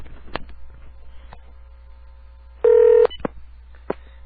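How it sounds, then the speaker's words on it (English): Telephone keypad dialing, with a single loud, sustained DTMF tone over a few sharp button clicks, close and clear against a low steady hum, no talking. "Let me make sure I dial it right."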